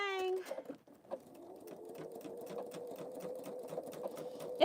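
A Pfaff Creative Vision embroidery machine stitches steadily with a fast, even mechanical patter, preceded by a brief higher whir as it starts up; the running sound stays close and moderately loud throughout, with no talking.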